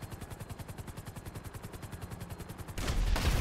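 Rapid anti-aircraft gunfire in a video game, a steady train of evenly spaced loud shots for nearly three seconds, then a heavier burst of blasts at the end.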